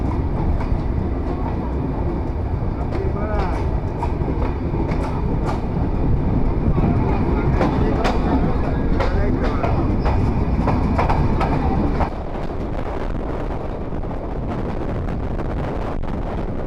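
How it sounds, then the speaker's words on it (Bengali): Sundarban Express passenger train departing a station in Bangladesh, a loud continuous rumble with rhythmic clattering of wagons and wind buffeting the microphone, easing slightly toward the end, with some talk mixed in. "আর আমাদের সুন্দরবন এক্সপ্রেস ট্রেন ইতিমধ্যে ছেড়ে যাচ্ছে"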